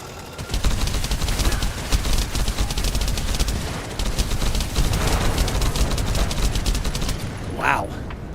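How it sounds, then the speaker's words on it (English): Machine gun fire in The First Descendant, rapid sustained bursts of gunfire tearing through enemies, loud and dense throughout with a brief burst of other game effects near the end and a voice talking over it. "It does work with the machine gun, and it tears them up"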